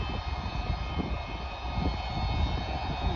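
An Antonov An-124 cargo aircraft takes off at Glasgow Prestwick Airport, its jet engines giving a loud, steady, broadband roar that builds slightly over a few seconds.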